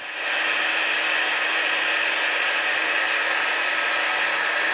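Heat gun blowing hot air to melt copper embossing powder on a handmade card, a steady loud whooshing fan roar that starts almost immediately and holds constant.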